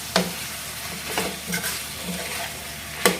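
Chicken curry with added paste is stirred in a sizzling pan, a steady fry underneath a few distinct scraping clinks of a spoon against the pan, close and without voices.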